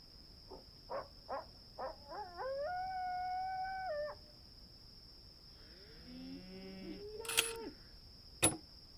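Coyotes in the Nancy Drew: Secret of Shadow Ranch video game give a few short yips, then a long sustained howl, then more wavering, overlapping howls. The calls are fairly faint over a steady high-pitched tone, with a sharp click near the end.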